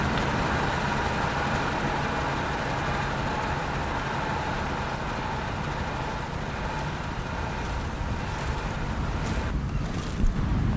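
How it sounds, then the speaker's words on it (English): Civilian boats on open water during a Dunkirk evacuation mission in the game Call to Arms - Gates of Hell: a steady, loud wash of wind, waves and engine rumble, continuous with no voices. "They sent civilian boats."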